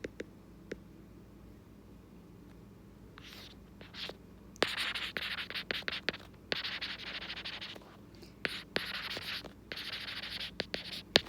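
Marker or chalk writing on a board during a cost accounting lesson: intermittent scratchy strokes, quiet at first, then a denser run of rubbing, squeaking strokes close to the mic, with no speech.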